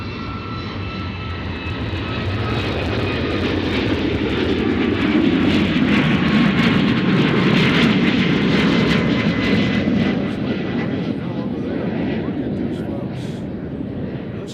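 Allegiant Air airliner in a special Insomniac livery at Nashville International Airport, a sustained rumbling jet engine roar that swells and slowly fades, heard at a distance with a thin whine.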